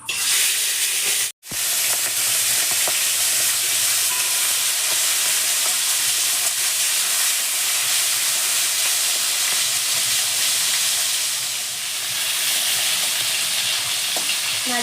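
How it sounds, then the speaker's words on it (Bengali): Prawns fry in hot mustard oil in a wok, giving a loud, steady, crackling sizzle that runs throughout, broken only by a brief dropout near the start. "তেল গরম হয়ে গেছে, আমি প্রথমে চিংড়ি মাছগুলো ভেজে নেব।"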